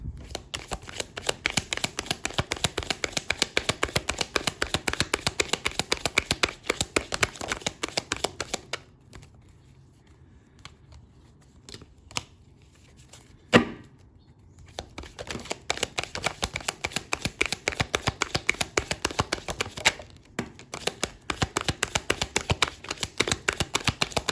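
Tarot cards shuffled and drawn for a reading, with dense rapid riffling close up, a quieter pause with a single sharp card snap, then brisk shuffling again.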